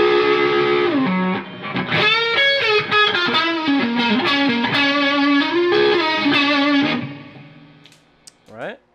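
Electric guitar run through drive pedals and a compressor into a Dawner Prince Pulse effects unit, played as a sustained, distorted melodic line with chorus and echo for about seven seconds before cutting off, followed by a few faint trailing notes.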